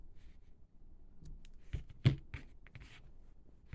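A pair of scissors snips off leftover yarn during crocheting, giving one crisp cut amid a few light handling clicks and rustles in a quiet room.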